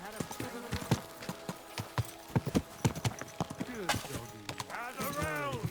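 Horse hooves clip-clop steadily in Kingdom Come Deliverance 2, a close, rhythmic run of hoofbeats with a whinny near the end and speech-like vocal sounds underneath.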